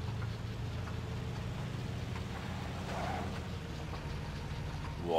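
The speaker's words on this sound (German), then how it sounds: "Boah, das Auto macht komische Geräusche." A car engine in the video game State of Decay runs with a steady low idle and faint ticking, a rough, uneven hum that continues throughout without speech.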